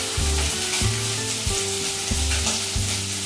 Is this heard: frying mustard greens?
yes